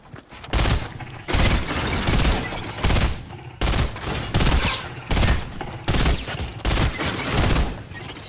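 Bursts of gunfire from the Fortnite video game come in rapid, loud volleys of roughly equal length, separated by short gaps, with no talk over them.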